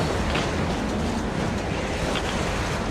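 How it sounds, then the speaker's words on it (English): A howling blizzard in the video game Metro Exodus, dense roaring wind and rushing noise filling every moment at a steady loud level, with no voices. "Now that's what I call a blizzard. Can't see a thing."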